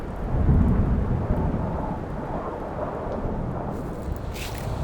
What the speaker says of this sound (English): the thunder is getting very angry sounding